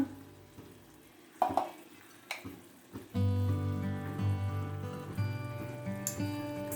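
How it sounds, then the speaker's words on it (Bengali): Raw mango chutney sizzling in a pan as it is stirred, a steady close frying hiss with a few scraping stirs, after some brief clinks and taps. "নেড়ে নেব"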